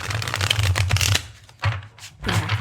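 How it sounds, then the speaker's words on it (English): A deck of tarot cards riffle-shuffled up close, with a dense flurry of papery flutters, a brief pause, then two shorter riffles, each ending in a soft tap. "Do a shuffle here that you won't cut out. Just they can hear the cards shuffle."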